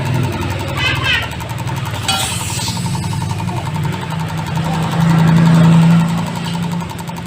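A Yamaha Vixion motorcycle engine that is hard to start and stalls when revved, cranking and then catching into a loud, steady, near idle with a rough knocking rhythm that swells in the last few seconds.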